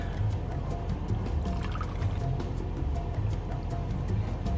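Water runs steadily over canned kidney beans and black beans being rinsed, a continuous close pouring trickle with faint splashing throughout and no talking.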